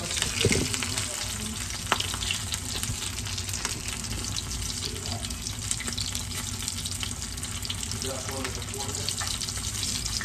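Cheese-filled beef empanadas frying in hot oil, a steady crackling sizzle that carries on evenly, with a few clinks and stirring sounds near the start.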